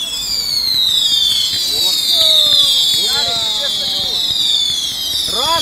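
Fireworks whistle and crackle overhead, with sweeping rising tones and bursts over a steady hiss, while people talk nearby.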